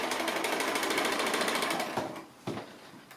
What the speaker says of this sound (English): So I'm sewing on that line, so keeping things nice and flat so that that is a diagonal line